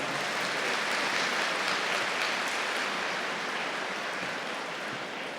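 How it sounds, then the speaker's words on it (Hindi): A large crowd of sisters and brothers gathered at Madhuban claps loudly in dense, sustained applause that holds steady throughout and eases only slightly toward the end. "जोर से ताली बजाओ।"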